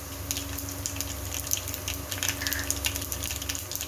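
Mustard seeds, urad dal and cumin tempering in hot oil, a steady crackling sizzle with scattered pops and spits throughout, fairly close and alone.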